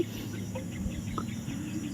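Faint, scattered clucking of a wild chicken over a steady hum of outdoor background noise.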